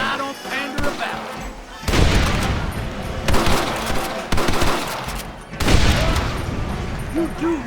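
Gunfire rattles through a shootout in the Red Dead Redemption video game, bursts of loud, dense shots coming in waves over several seconds, with shouted voices mixed into the battle.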